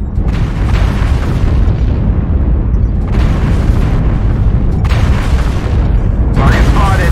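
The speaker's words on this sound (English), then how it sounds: "Artillery strike activated." Artillery strike in a video game set in a frozen city: a dense, continuous rumble of heavy booms and blasts rolling on loudly throughout, with a few sharper bursts near the end.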